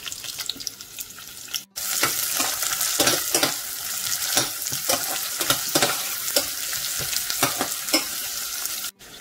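Onion frying in a pan for a Sri Lankan pineapple curry, a loud continuous sizzle with repeated stirring scrapes and clicks and a brief break near the start, no voices.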